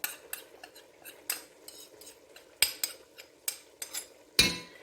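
A spoon scraping and tapping against the rim of a soup pot as black pepper and table salt are knocked in for French onion soup: a run of sharp metallic clinks and scrapes, close by, ending in one louder clank.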